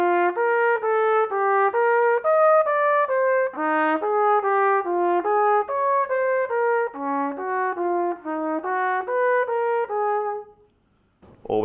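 A melodic line connecting thirds cycles over a major chord, played as a steady stream of evenly spaced, ringing notes that rise and fall in repeating patterns, clear and alone, ending with a short noise.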